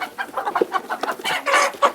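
Native country chickens on a farm cluck and squawk in quick, uneven bursts, close and fairly loud, with several birds calling over one another.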